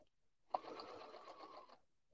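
A sewing machine hums steadily through a short burst of about one second, stitching a patchwork pillow, and then stops in a quiet room.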